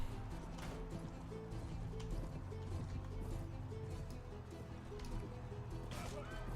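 Horse galloping in the Mount & Blade Pendor video game, a steady rhythmic clip-clop of hooves running beneath game music and ambient noise, continuous and moderately close throughout.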